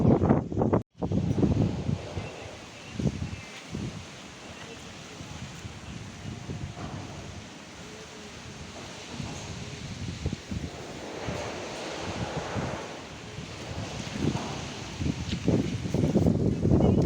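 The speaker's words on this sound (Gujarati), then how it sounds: "પવન" Wind gusts in the open near a dargah, a rushing, buffeting roar on the microphone that swells and eases, with faint rustling underneath.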